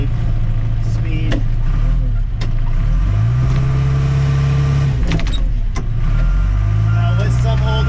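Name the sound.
tractor engine working in a lower gear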